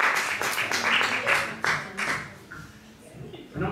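Audience applause at a bookshop talk on videogames, a brief burst of scattered clapping that fades over a few seconds, with some speech mixed in.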